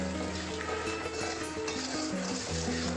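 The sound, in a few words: spice paste frying in a pan with a little water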